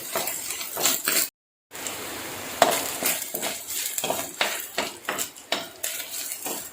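Chopped onion and green chillies are stirred in a pan with a metal spoon, giving repeated scraping clinks against the pan over a soft sizzle, with one brief silent gap.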